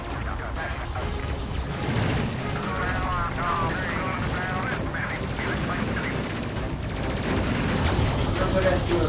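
Gunfire from a gun in the space game Space Crew, dense continuous shooting and combat noise that runs steadily throughout, mixed with talking voices.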